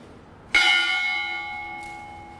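A single memorial bell struck once at a remembrance ceremony for those killed on 9/11, a bright clear strike followed by a long ringing decay, heard alone in a quiet setting.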